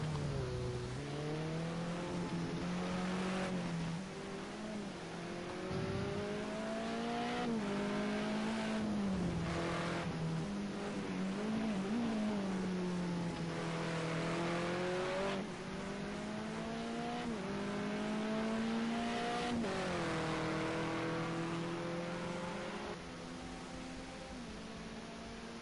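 A race car engine revs and climbs through the gears, pitch rising and falling as it accelerates through the S's at Bathurst in a racing game. The engine note is loud, continuous and up close, with no voices.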